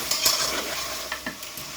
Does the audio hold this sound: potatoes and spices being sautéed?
yes